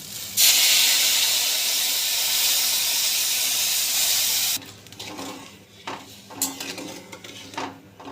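Hot water poured into a hot frying pan for saffron basanti pulao bursts into a loud, steady hiss of steam for about four seconds, then cuts off, leaving quieter clinks and scraping of utensils against the pan.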